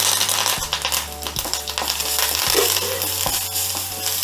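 Asafoetida, one dried red chilli and curry leaves crackle in hot oil as a South Indian tempering. A continuous sizzle runs under a low hum, with sharp clicks and spoon taps scattered throughout.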